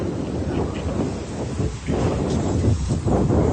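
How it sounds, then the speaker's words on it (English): Strong wind buffets and roars in uneven gusts, a broad rushing noise with no voices. "Getting crazy windy."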